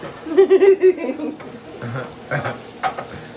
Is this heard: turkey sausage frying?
yes